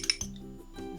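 An egg being whisked in a small bowl, with light clinks of utensil against the bowl in short, close strokes over about a second.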